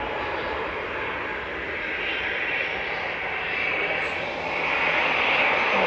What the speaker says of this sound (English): That was Ryanair taking off